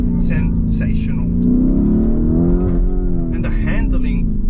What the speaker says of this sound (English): That thunderous sounding V8. The pops and the crackles are simply sensational.